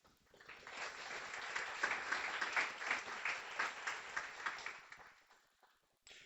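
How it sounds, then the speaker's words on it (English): Warm round of applause from an audience at a guide dog graduation ceremony, steady clapping building and holding for several seconds before fading out, with no talking over it. "I'd really like to have a warm round of applause for Audie Marks"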